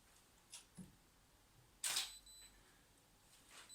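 A camera shutter fires once in a photography lighting setup, giving a sharp, loud mechanical click-burst near the middle, with a few faint ticks before and after against a quiet room.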